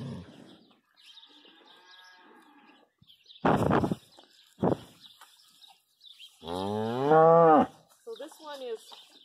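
A three-quarter Jersey cross cow, a heifer just after calving on a farm, lets out several loud close moos with breathy pauses between calls, and faint bird sounds sit in the background.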